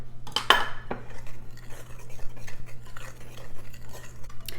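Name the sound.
mixing dry biscuit ingredients in a bowl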